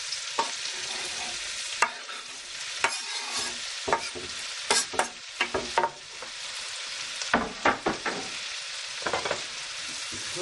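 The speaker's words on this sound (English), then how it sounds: "I've chopped 3 large onions, which will go into a little bit of olive oil and a couple of tablespoons of butter" Three large chopped onions cook in olive oil and butter, giving a bright, continuous sizzle with clustered scraping stirs and clicks from a spoon against the pan, and no voices.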